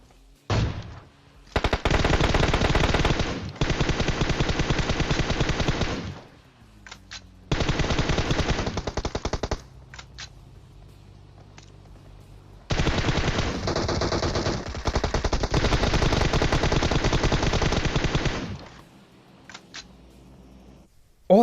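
Automatic weapons fire in PUBG comes in several long, rapid, loud bursts separated by short quiet gaps, with a few single shots between them.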